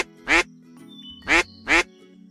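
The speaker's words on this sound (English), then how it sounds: "This is a mallard duck. He's swimming in the river." A male mallard drake on a river gives three loud, nasal quacks, one alone and then a quick pair, close by over a soft background hum.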